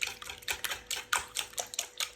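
A whisk beats a breakfast casserole mixture in a bowl with a quick, steady rhythm of rattling, splashy strokes, close and moderately quiet.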